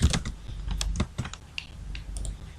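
Someone types on a computer keyboard, producing rapid, irregular clicks and clacks of keys close to the microphone. The keystrokes come in quick bursts with short pauses and no talking.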